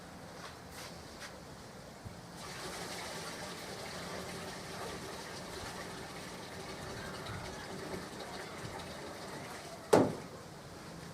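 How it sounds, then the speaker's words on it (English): Water pours into the tank of an evaporative cooling machine as a steady, moderately quiet gush that runs for several seconds, followed by a brief sharp knock near the end. "So perhaps if we could put a little water in"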